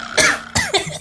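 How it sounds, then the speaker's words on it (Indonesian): Two or three harsh, close coughs from a man in a quick burst, loud and dry, with no talking around them. "Masih ada sedikit batuk, mohon maaf ya teman-teman."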